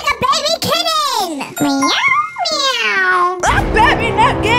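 A voice imitates a cat, giving a few drawn-out, rising and falling meows in a row, loud and close, before a brief burst of noise at the end.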